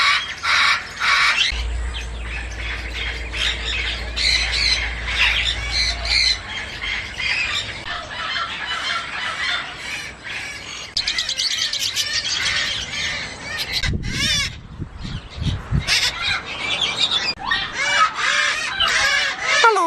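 Pet parrots kept by a woman squawk loudly and repeatedly at close range, harsh shrieks and chatter overlapping through the whole stretch, with a brief low rumble early on.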